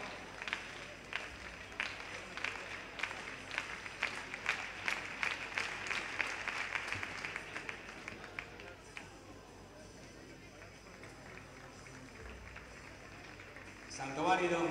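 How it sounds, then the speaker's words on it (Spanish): Spectators at an indoor athletics championship clap in a steady rhythmic beat for a triple jumper, the claps growing stronger then fading, with an announcer talking over them and a brief burst of noise at the end. "Palmas nos pide Alfonso."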